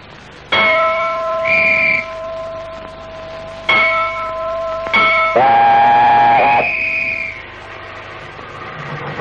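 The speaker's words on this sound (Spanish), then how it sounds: "¿Me permite tocar la campana por última vez?" A bell rung several times in an indoor setting, bright sustained tones with long ringing decay, struck in separate bursts with short pauses between, loud and close with no talking.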